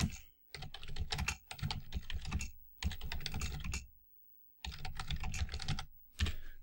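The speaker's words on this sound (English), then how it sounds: "then you can type in your question" Steady typing on a computer keyboard, close and clear, coming in dense bursts of rapid keystrokes with a few short pauses between them and no voices.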